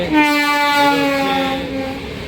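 A train on the opposite track passes near Secunderabad, its horn sounding a long, loud harmonic blast over the rolling of the rails, heard from a moving passenger coach.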